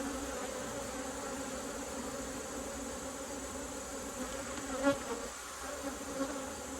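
Honey bees hum steadily from an active hive during a fall inspection, a dense continuous buzz close by with no talking.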